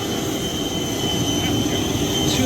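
Steady jet engine roar heard from inside the cabin of a Wizz Air airliner, a continuous broadband rumble and whine held at an even level throughout.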